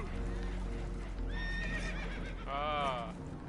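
Spooked horses whinny and neigh in Red Dead Redemption 2, with a high shrill whinny midway and a louder, wavering neigh near the end over game background noise and low rumble.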